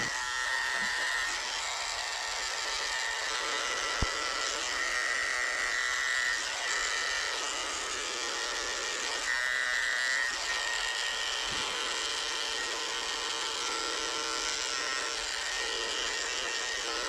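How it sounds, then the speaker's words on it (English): Electric dog clippers fitted with a 40 blade buzz steadily as they shave the foot pads of a poodle during grooming, a continuous close-up hum with small shifts in pitch as the blade moves. "Shaving the pads of his feet out with a 40 blade."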